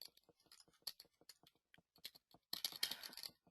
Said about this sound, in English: here you're able to type out TRW baseball design